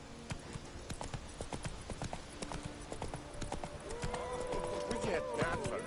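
Roach the horse trots in The Witcher video game with crisp, regular hoof clip-clops on hard ground, joined near the end by a whinny, while someone talks over the hoofbeats.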